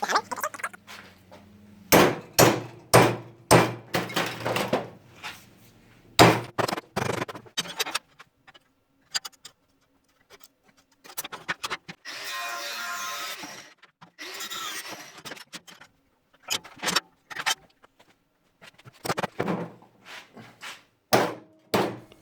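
Metal parts are hammered while building a robot arm: sharp, loud strikes come in irregular bursts with short pauses, broken midway by a longer harsh, grinding stretch.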